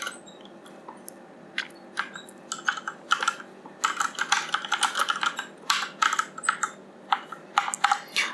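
Rapid clicky typing on a computer keyboard while writing Java code, with bursts of keystrokes and short pauses between, close and crisp with no talking.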